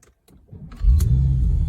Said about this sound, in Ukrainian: Пробуємо завести зараз автомобіль.